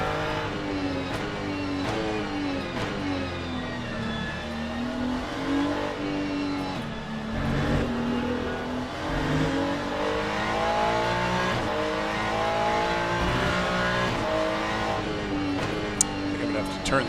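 Race car engines in the Le Mans Ultimate GT racing game drone and rev steadily throughout, with rising and falling pitch and a possible tire squeal, while a voice talks over them.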